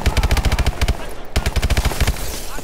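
Rapid automatic gunfire from the Call of Duty: Advanced Warfare video game, loud and continuous bursts with a brief break midway.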